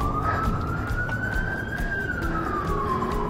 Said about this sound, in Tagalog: Forever lang yung ambulance dito.